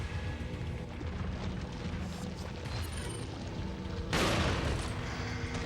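Gunfire in Resident Evil 4 sits under a busy, noisy game soundscape and then swells into a loud, dense volley of shots near the end, carrying on to the close.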